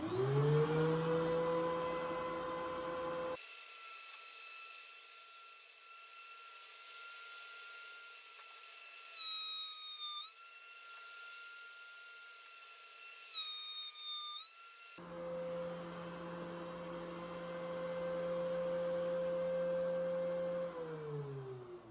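A wood board feeds through a thickness planer with a sacrificial board to prevent snipe, giving a loud, steady whining machine drone with tonal harmonics that dips to a lighter, thinner hum mid-pass before the full roar returns.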